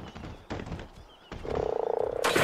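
Beelzebufo frog in the video game ARK: Aberration gives a steady, rapid pulsing croak that starts midway and keeps going, loud and close over game sounds and a few thuds.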